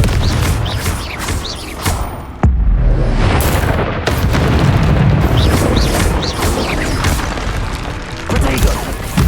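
Repeated Confringo blasting-curse explosions in the video game Hogwarts Legacy, heavy booming crashes that hit loud and close one after another amid a dense battle din, with a voice speaking now and then.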